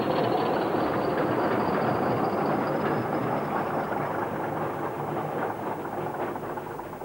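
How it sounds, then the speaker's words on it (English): An English Electric Class 40 diesel locomotive passing, a loud, continuous roar with a broad rumbling wash that holds steady and eases only slightly toward the end, with no voices. "the English Electric Class 40"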